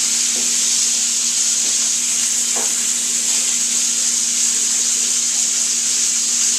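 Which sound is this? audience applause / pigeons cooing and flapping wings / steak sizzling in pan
steak sizzling in pan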